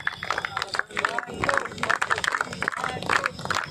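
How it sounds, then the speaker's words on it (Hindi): Crowd clapping for the opening of a sports tournament in Mithila, Bihar, steady rhythmic applause filling the space with murmuring voices and talk mixed in throughout. "जोरदार तालियां बजती रहनी चाहिए।"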